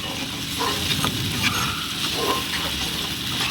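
Onion and tomato paste sizzles and fries in a pan, crackling steadily up close while a spatula scrapes and stirs it in several quick strokes.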